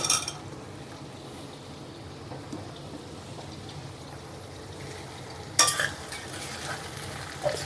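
Bottle gourd pieces and softened tomatoes being stirred in a pan, a low steady simmering sizzle with soft scraping, then a brief louder clatter of the spoon near the end; no talking.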